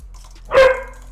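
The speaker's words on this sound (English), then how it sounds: "My dog's barking." A single short, close dog bark rings out clearly against a quiet background.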